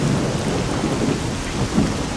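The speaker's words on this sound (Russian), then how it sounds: "дождь пошел." Thunderstorm rain in the game S.T.A.L.K.E.R.: a dense, loud wash of falling rain with low rumbling thunder rolling beneath it, no voices.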